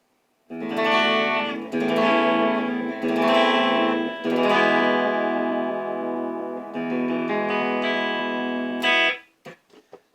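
An electric guitar on its bridge pickup with no compressor plays a run of sustained, overdriven chords and notes, each strum ringing out loudly and closely, ending with a few short plucked accents.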